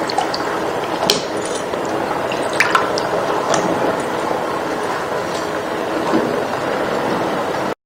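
Water boiling in a cooking pot for apple murabba, a continuous dense bubbling hiss with occasional sharper pops, close and steady until an abrupt cut at the end.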